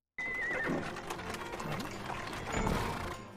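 Horses pulling a carriage in an anime scene, with a whinny and clip-clopping hooves over mechanical rattling, moderately close with other sound effects layered in.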